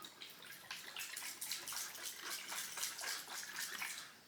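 Water sloshing and trickling as two cups are joined and mixed together for a magic trick, a soft, steady, close splashing with no talk.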